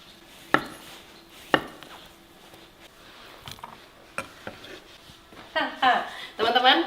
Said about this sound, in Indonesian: Udangnya potong dadu aja teman-teman.